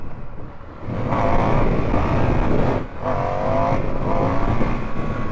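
An Indian FTR 1200 motorcycle accelerates hard for a wheelie attempt, the engine surging loud and close, dipping briefly mid-run before revving back up with a steady roar.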